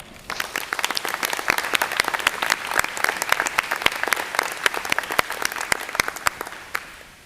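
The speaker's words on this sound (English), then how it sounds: "Please give them a round of applause." Steady applause from a ceremony audience honoring a high school marching band, dense, sharp claps sustained for about seven seconds, fairly close and loud, fading slightly at the end.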